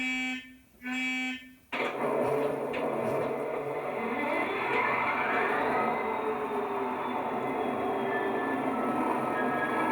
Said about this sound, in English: in this loco is made by Lego Man Biffo, and it's a really high quality sound decoder inside the loco, and it's got an EM2 speaker in there as well